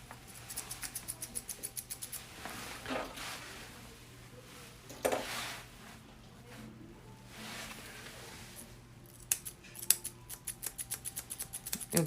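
Pet-grooming scissors snip close and quietly at a pet's whiskers, sometimes catching on them, giving runs of rapid small clicks in bursts with quiet gaps.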